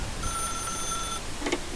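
A telephone in The Stanley Parable video game rings once, a steady electronic trill held for about a second, followed by a brief click, over a constant low hum.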